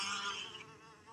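Two big black flies buzz with a thin, wavering drone that drifts and fades slightly, quiet and close, with no talking.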